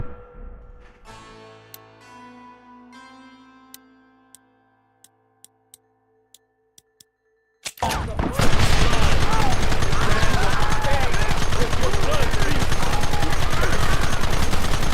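Gunfire in Red Dead Redemption. A few sparse single shots over a quiet musical passage give way to a loud, dense barrage of rapid gunfire and commotion, with voices shouting.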